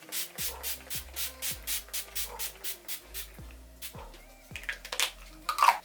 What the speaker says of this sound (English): Then to set everything, I'm just going to go in with this Revolution Pollution Control All Nighter Setting Spray.